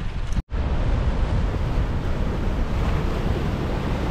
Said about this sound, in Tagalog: Grabe ang alon dun